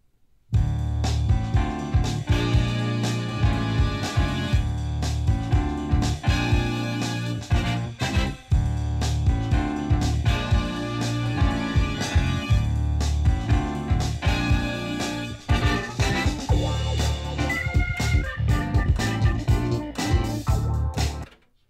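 A jazz tune plays back on a Pioneer CTW850R cassette deck, full and steady for about twenty seconds with bass, chords and melody filling the mix and no talking over it.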